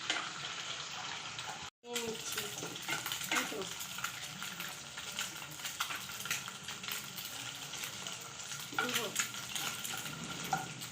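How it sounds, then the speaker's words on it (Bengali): An egg fries in oil in a kadai, a steady close sizzle with occasional stirring scrapes running through, broken by one brief silent gap near the start. "ডিমটা ভাজা হয়ে গেল"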